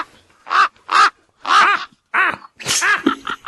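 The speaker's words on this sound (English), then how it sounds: "I hear a couple extra ravens this week" Several ravens caw loudly and close in a string of harsh, separate calls, some doubled, with short gaps between them and no voices over them.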